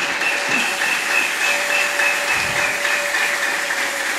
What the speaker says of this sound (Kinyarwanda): A round of applause to the word of God